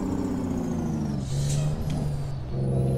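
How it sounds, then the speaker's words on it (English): An American Truck Simulator heavy truck with an 18-speed transmission revs its engine as the retarder engages, giving a loud, steady diesel drone whose pitch climbs and shifts with no talking. "every time I activated the retarder, the RPM would just rev exactly like that"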